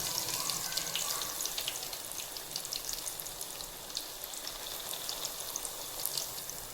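Banana pieces fry in hot oil in a pan, a dense, steady crackling sizzle that stays close and even with fine popping throughout.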